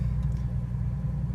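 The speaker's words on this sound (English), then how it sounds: "Starting up the car. See how she goes." A cold Holden Torana engine idles steadily at close range, a low, even rumble that holds without a break.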